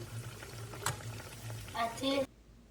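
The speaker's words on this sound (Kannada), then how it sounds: "ಇವಾಗ ಕರ್ಕರಿ ಆಗೋತನ ಕರಿಬೇಕು" Avalakki vade, flattened-rice fritters, frying in hot oil: a steady bubbling sizzle runs close under a speaking voice, with a short burst of louder crackle just before it cuts off abruptly.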